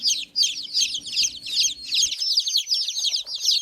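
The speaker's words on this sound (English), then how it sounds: "So I picked up some chicks for my friend." Baby chicks crowded together in a box peep continuously, a dense run of high, rapid chirps close by, with a faint low hum under the first half that then drops away.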